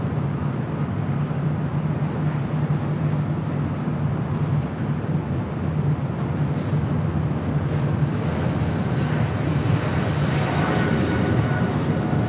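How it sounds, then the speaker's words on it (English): Boeing 777-300ER airliner rolling down the runway at Los Angeles International Airport, a steady, loud, broadband rumble and roar that holds evenly throughout with no talk. "Speedbird, flight 280, heading back to London, 777-300ER, now rolling down to 25 right."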